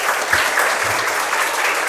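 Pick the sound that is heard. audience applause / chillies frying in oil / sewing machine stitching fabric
audience applause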